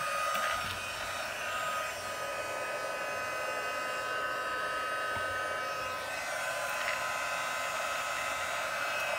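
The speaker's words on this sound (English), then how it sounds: "I'm going to take my heat gun and go ahead and turn that on." A heat gun running steadily, a constant whirring blower roar with a high whine, unchanging for the whole stretch and with no voices.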